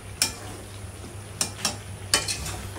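Chicken and potatoes sauté in a hot pan with a steady close sizzle, broken by a few sharp scrapes and clicks of a spoon stirring, and no talking.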